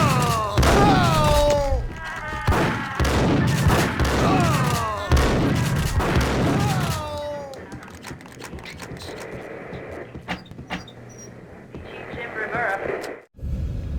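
Gunfire in the 2001 game Max Payne: heavy shots and thuds crowd over shouting voices and a tense score, then a quieter stretch with scattered sharp reports and a final deep boom.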